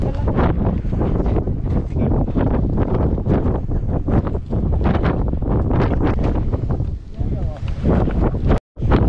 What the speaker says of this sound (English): Now it's quite windy.